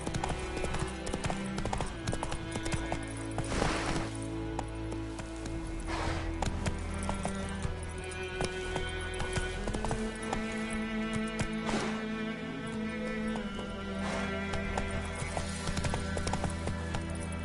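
Roach, the horse in The Witcher 3 video game, with steady rhythmic hoofbeats running beneath a loud, dense layer of game music and ambience.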